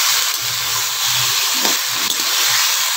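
Potato pieces frying in hot oil in a home kitchen produce a loud, continuous sizzle with a few soft stirring scrapes, close up and with no voices.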